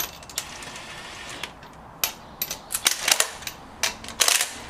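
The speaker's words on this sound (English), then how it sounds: "And then cinch it up with your gun or your lug nut wrench." A pneumatic impact gun snugs lug nuts onto a Toyota hub during a manual hub conversion, firing in short, sharp rattling bursts at irregular intervals, close and fairly loud, with no talking.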